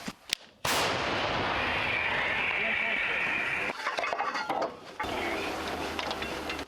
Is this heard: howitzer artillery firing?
yes